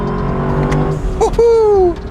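Engine note from a Lexus LC convertible's V8 rises and falls as the throttle is worked. A rising whine ends the clip.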